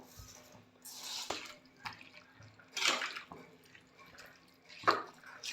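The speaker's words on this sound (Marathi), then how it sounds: "भिजवलेले तांदूळ घालून घेते आहे." Soaked rice tipped into a cooking pot in a home kitchen for a cabbage rice dish, giving a few short wet splashes and patters in separate bursts, close and fairly quiet with no talk.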